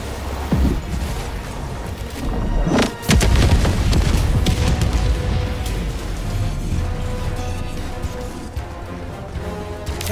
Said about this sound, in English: Calling in an orbital strike.